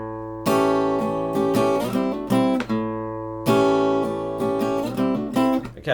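Guitar playing a rock blues riff built on double stops, repeated plucked two-note chords in a bouncing rhythm with bends and slides, clear and close with no voice over it.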